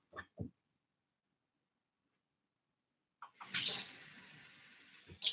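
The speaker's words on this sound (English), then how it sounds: "Since this had apple cider vinegar in it, I'm just rinsing it." Water from a kitchen tap runs into and splashes around an empty jar that held apple cider vinegar. A couple of brief clinks come first, then a pause, then a close, hissing rinse.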